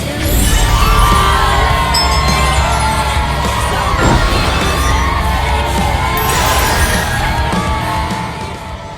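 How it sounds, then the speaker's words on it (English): A concert crowd roars and cheers wildly for a singer's dazzling light show, a dense, loud wall of whoops and shouts sustained throughout, with a brief crash-like burst partway through. "the crowd goes wild"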